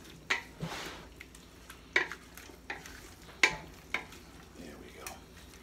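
Beef for chili frying in a pot as it is stirred, a low sizzle broken by several sharp scraping clanks of a spoon against the pot at irregular intervals.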